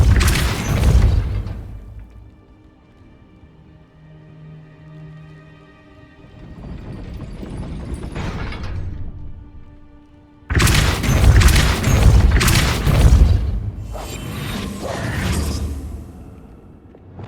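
Depulso spell blasts in the video game Hogwarts Legacy, heavy booming bursts with whooshing tails: one early blast, a quieter rumble, then a loud cluster of crashing impacts.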